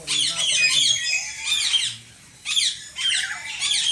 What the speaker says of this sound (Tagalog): Ito yung black cap lorry